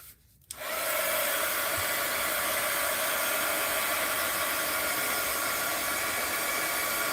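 A hair dryer aimed at paper tassels switches on after a brief quiet moment, then blows a loud, steady, close-up whooshing hiss that holds evenly to the end, with no talking.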